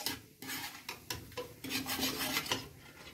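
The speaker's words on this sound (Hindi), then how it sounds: "अब हम अपने मसाले को अच्छे से चलाते हुए भून लेंगे" Green chilli pickle spices being stirred and roasted in oil in a pan, heard as a run of repeated scraping, rasping strokes close up, uneven in rhythm, with no voices.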